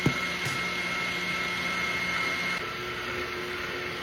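An electric mixer with a shield hums steadily while mixing chocolate chip cookie dough, a constant motor drone that shifts slightly partway through, close and without talk.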